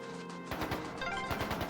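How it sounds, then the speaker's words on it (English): Gunfire in the video game Trails of Cold Steel 2: rapid bursts of sharp cracks in quick, uneven rhythm after a short lull, over game background sound. "More gunfire. That sounds bad."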